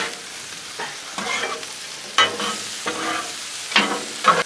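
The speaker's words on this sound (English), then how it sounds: "Come here and stir everything up again real fast." Steak and shrimp sizzle steadily on a Blackstone griddle for a backyard hibachi, with repeated scraping stirs of a spatula cutting through the frying hiss in quick bursts, close and fairly loud, with no voices.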